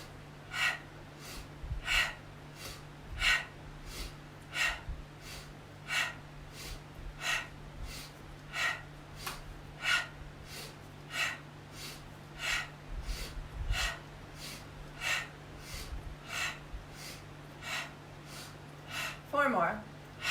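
A fast breathing exercise: a long, regular run of forceful exhales through the nose or mouth, roughly one sharp puff every second, close to the microphone, with a low steady hum underneath.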